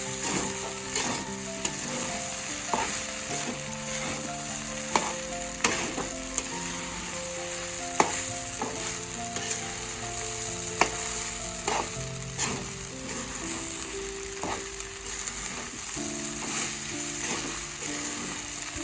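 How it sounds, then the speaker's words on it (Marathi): Sago khichdi sautéing in a pan for a fasting dish, with a continuous close sizzle and frying hiss. Repeated sharp clicks and scrapes of stirring recur through it, and tonal background music plays underneath. "तर याला आपण थोड्या वेळासाठी चांगलं परतून घेऊया।"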